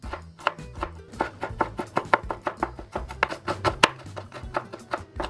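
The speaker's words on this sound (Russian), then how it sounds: "Тонкой соломкой режу имбирь." Knife chopping ginger into thin strips on a cutting board for a Vietnamese chicken salad, a rapid, steady run of close, crisp blade taps continuing without pause.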